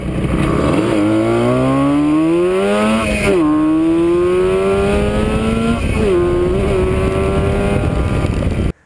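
A modified 1970s Japanese full-size motorcycle being ridden, its engine loud and close, rising in pitch through the gears with brief drops at each shift before cutting off at the end.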